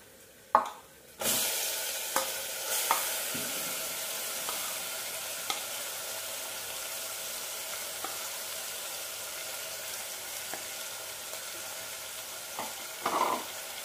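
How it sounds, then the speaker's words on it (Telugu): Marinated chicken tipped into a pressure cooker pot of frying onions for biryani, a loud splash and hiss settling into a steady sizzle, with a few spatula scrapes and clinks nearby and no talk. "ఇప్పుడు మనం చికెన్ వేసుకుందాం. దీంట్లో మనం ముందుగా కలిపి ఉంచుకున్నాం కదా, ఆ చికెన్ వేసుకోవాలి."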